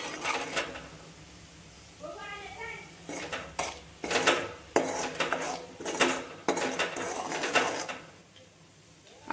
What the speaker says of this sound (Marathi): आता मसाला छान असा लालसर परतून घेऊ।